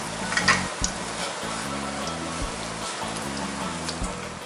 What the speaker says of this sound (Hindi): इसको हम लोग 5 से 6 मिनट तक करेंगे फ्राई